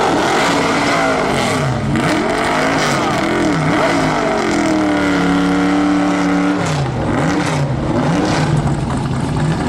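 Chevrolet Camaro drifting at the Goodwood turnaround, its loud engine revving and warbling in sustained pitch swings, with a steady drone underneath throughout.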